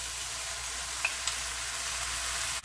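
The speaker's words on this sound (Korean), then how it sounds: "콩나물은 중불로 해서 살짝 볶아줍니다." Bean sprouts stir-fry over medium heat in a pan, giving a steady, even sizzle throughout with a couple of brief spatula clicks and no talking.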